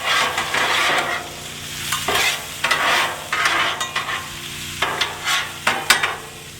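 Food sizzles and fries in a hot pan on a campground stove, with steady crackling broken by repeated bursts of stirring and scraping, close and fairly loud.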